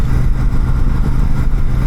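A Royal Enfield Meteor 650 motorcycle engine runs close by, a steady, loud low throb with an even pulsing rhythm and no speech over it.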